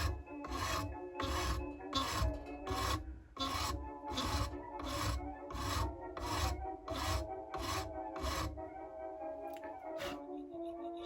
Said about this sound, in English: So now very carefully sawing the little slots in the nut for the strings